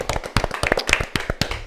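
A man applauds himself with a short burst of about a dozen sharp, close hand claps in an uneven rhythm, dry and fairly loud, with no talking over them.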